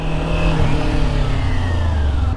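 Motorcycle engine with its exhaust zip-tied up, revving loud and close in a sustained, rising and falling roar with no talk over it.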